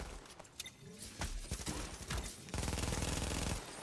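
An MP7 submachine gun fires in The Division, with rapid bursts of gunfire crackling at low level and a sustained automatic volley near the end.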